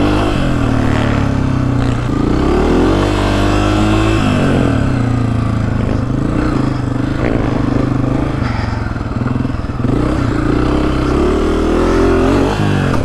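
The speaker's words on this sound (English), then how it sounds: "I feel like it handles better sitting back on the seat and giving it the throttle, giving it the beans" A 2024 Honda CRF250F dirt bike roars across hot desert sand, its engine close and loud as the throttle is repeatedly opened, the revs rising and falling in surges under constant wind noise.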